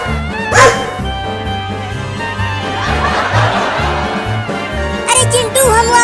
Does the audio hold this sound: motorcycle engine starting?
no